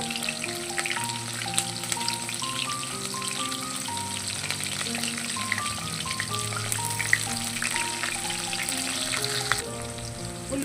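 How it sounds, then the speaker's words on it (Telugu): Onions frying in a pan for a dried fish curry, a continuous close crackling sizzle with light popping and occasional stirring, steady throughout without speech. "మనం కట్ చేసి పెట్టుకున్న ఎర్రగడ్డ కూడా వేసేసుకున్నాము"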